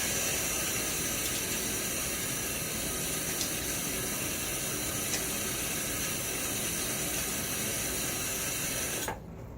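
Razor held under a running tap, a steady close rush of water that cuts off abruptly just before the end.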